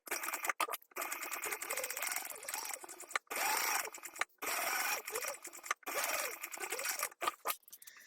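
Sewing machine stitching quilted candy-bag fabric pieces together with a quarter-inch seam, running in steady whirring bursts with brief pauses between runs, close and fairly loud.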